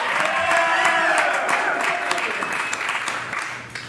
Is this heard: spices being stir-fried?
no